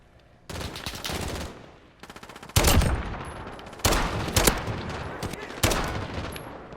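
Dragunov sniper rifle fire in Modern Warfare, several loud, sharp reports spaced a second or so apart, each with a ringing tail and some faint in-game rattle between shots.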